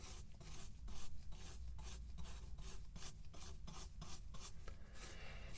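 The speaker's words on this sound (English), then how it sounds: "brush away gently to see where we're beginning here" Gentle brushing across a sediment deposit during excavation of a triceratops fossil, a close, quiet rhythmic scratch of bristles repeating in quick strokes with no voices.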